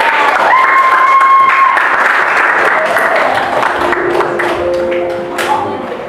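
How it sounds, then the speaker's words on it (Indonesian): A classroom of people claps together in sustained applause, loud and close, with a few voices and a high tone briefly audible before it tapers off. "Kasih tepuk tangan untuk kita semua."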